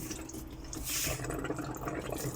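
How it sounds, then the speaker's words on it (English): Tap water spurts and sputters from a faucet as air clears out of a freshly refilled domestic plumbing system, a continuous close, uneven splashing hiss with drippy bursts. "So leave that on for a second until the water comes through properly."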